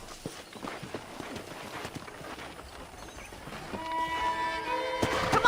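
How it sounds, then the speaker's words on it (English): Horse hooves from riding in Red Dead Redemption, a soft, steady clip-clop of footfalls under quiet outdoor ambience, with a tonal chime rising near the end. "let's see if you can still ride a horse"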